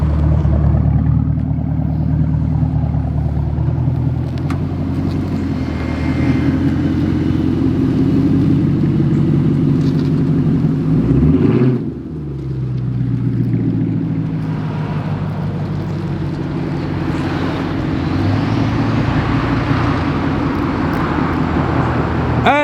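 A straight-piped Chevrolet Camaro SS V8 drives down a road, its loud, raspy exhaust droning steadily close by, easing briefly mid-drive before pulling back up with deep rumble.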